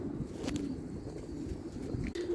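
Pigeons being given a garlic treatment coo softly, low rolling calls repeating over a steady background hum, with no talking.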